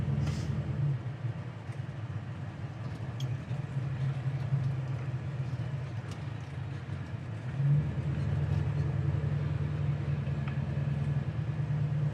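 Big-block V8 of a 1970 Chevrolet Chevelle SS while driving, a steady low engine drone and road rumble heard from inside the car, swelling slightly louder partway through and holding constant.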